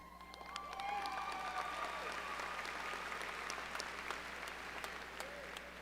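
Sustained applause fills an audience at the Pieper High School Class of 2026 graduation ceremony, rising quickly at the start and holding at a steady, dense level to the end.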